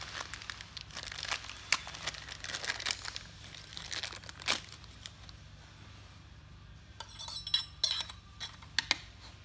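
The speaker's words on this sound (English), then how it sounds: "you're gonna install your rose cover" Rose cover being fitted onto a vertical dummy door lever handle, with close, soft metallic clicks, scrapes and crinkling handling noises in irregular bursts over a low steady hum.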